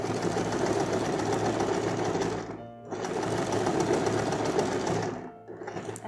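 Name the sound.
sewing machine stitching a seam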